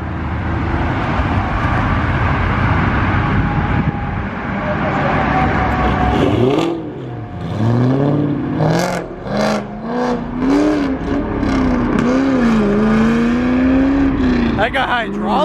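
A pro-charged pink Mustang pulls out of a car meet with a loud, continuous engine roar that rises as it accelerates away, while excited voices shout over it in the second half.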